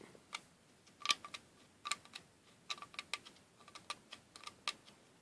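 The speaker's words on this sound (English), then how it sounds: "I'm just taking the scraper and I'm just scraping it" A hand scraper shaves white pine fatwood in a quiet, close series of short, crisp scratches and clicks coming in irregular bursts.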